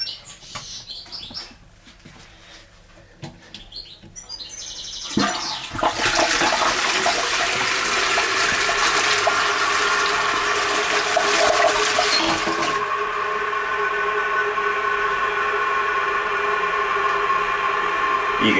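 A toilet cistern flushes loudly after the bowl has been reinstalled, a sudden rushing surge followed by a steady roar of refilling water that continues to the end, preceded by quieter handling noises.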